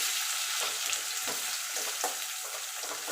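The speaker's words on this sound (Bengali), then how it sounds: "দিয়ে পেঁয়াজটা একটু ভালো করে একটু ভাজা ভাজা করে নেব।" Chopped onion fries in a small amount of oil in a pan, giving a steady close sizzle with faint stirring scrapes and no talk.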